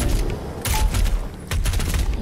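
Rapid bursts of gunfire from the demon-slaying shooter Doom Eternal, loud and close, with two dense clusters of shots separated by steady rumbling game noise and no talking.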